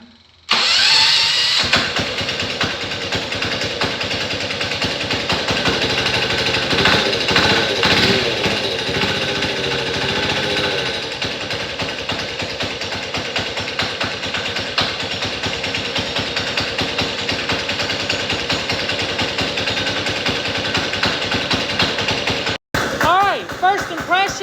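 A modified mini diesel engine runs loud and steady with a harsh, rapid knocking clatter for about twenty seconds, then cuts off abruptly before a brief restart near the end.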